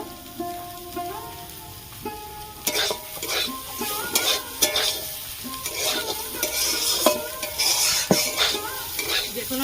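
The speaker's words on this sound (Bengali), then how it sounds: "শাক ভাজা" Betho shaak greens stir-frying in a pan with poppy seeds, a close crackling sizzle under frequent scraping and tossing strokes of a spatula against the metal, building after a quieter start, with no speech.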